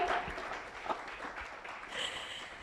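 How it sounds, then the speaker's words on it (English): Applause from people gathered at a regional meeting wrap-up, faint and distant, a thin patter of clapping for a couple of seconds with no talk over it. "So maybe we can first start with an applause for everyone here before we go to the protocol."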